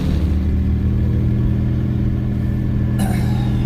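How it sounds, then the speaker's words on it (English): Twin-turbo V6 Mustang cruising with one turbo blocked off, a steady droning engine hum with low rumble, close and loud, then a brief rattling clatter near the end. "One turbo is blocked off, so we are cruising on one single turbo on this twin turbo setup."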